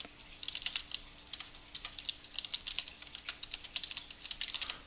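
Fingers tap out an email address on a computer keyboard, a quiet, close string of quick clicking keystrokes in uneven bursts over a low steady hum.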